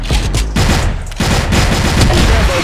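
Rapid Barrett sniper rifle fire in an online ranked shooter game, loud and close, with overlapping booming shots in dense bursts and brief gaps, faint talk underneath.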